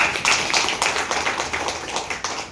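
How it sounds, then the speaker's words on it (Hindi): An audience claps together at a health product demonstration, a steady burst of applause of many hands close by. "एक बार ताली होनी चाहिए।"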